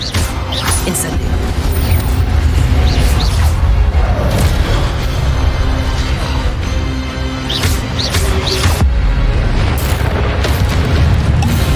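The Incendio fire spell is cast in the Hogwarts Legacy video game: loud booming bursts and fiery whooshes rise over a dense, continuous wash of game sound.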